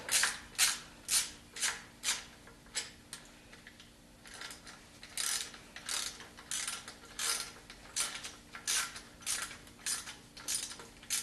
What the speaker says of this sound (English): So now I can tighten those bolts.